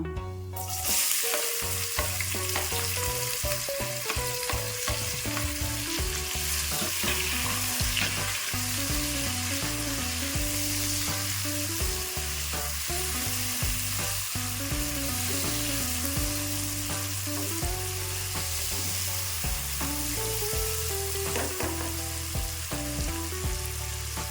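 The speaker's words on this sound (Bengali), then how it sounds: "পেঁয়াজটা বেশ সুন্দর ভাজা ভাজা হয়ে এসছে" Chopped onion with three bay leaves frying in a pan, a steady close sizzle running the whole time under continuous background music.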